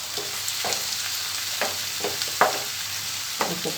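Onions and tomatoes sautéing in a pan for chilli chicken, a steady close sizzle punctuated by several scraping stirs of a spoon.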